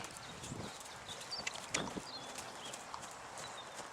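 Horse hooves clip-clop during a riding lesson, with faint scattered steps and a few sharper hoof strikes over steady outdoor background noise, birds chirping lightly.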